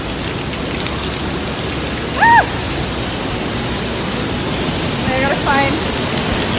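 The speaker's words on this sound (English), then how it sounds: "All right, here we go through the waterfall." Heavy waterfall spray rushes loudly and steadily on a gorge trail at Watkins Glen State Park as someone walks through it, a dense hiss with a person briefly exclaiming over it.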